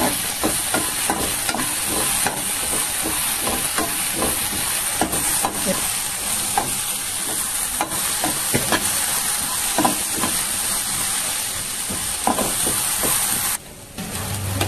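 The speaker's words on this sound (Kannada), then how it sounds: "ಈರುಳ್ಳಿ ಸ್ವಲ್ಪ ಫ್ರೈ ಮಾಡ್ಕೊಳ್ಳಿ." Onions sizzle loudly and steadily in hot oil as the tempering for an okra stir fry, with frequent scraping and stirring taps close up and a brief drop in the sizzle near the end.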